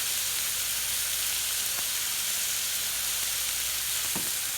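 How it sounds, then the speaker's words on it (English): Shrimp sizzling in a very hot pan, a dense continuous hiss of frying with a couple of brief crackles and pops, no voices. "And then we'll throw our shrimp down. So that pan is kicking."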